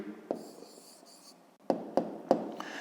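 Handwriting an answer for a fifth-grade maths exercise: soft pen or pencil strokes rub against paper in short bursts, with several sharper taps near the end, close and quiet with no talking.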